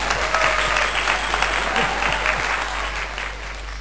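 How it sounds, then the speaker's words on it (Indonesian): A crowd at an Indonesian talk gives sustained applause, a dense, continuous roar of clapping that fades slightly near the end, with faint voices underneath. "tepuk tangan lagi"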